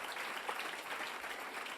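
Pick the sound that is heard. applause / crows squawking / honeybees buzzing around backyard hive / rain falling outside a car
applause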